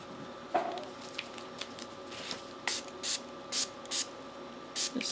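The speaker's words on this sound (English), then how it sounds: "Just a little spritz." A spray bottle spritzes water during a budget monoprinting session. Several quick, faint, close sprays come in short bursts, with a small knock near the start.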